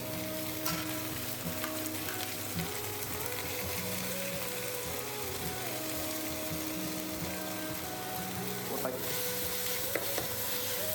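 Tomatoes frying with ginger garlic paste in a pan for a chicken gravy, a soft, continuous sizzle with light stirring, fairly quiet and even for the whole stretch, no voices.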